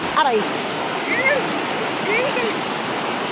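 A strong river current rushes in a steady, loud wash of flowing water close by, as people talk and call out over it.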